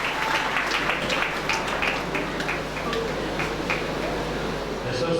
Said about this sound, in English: Please give them a big applause.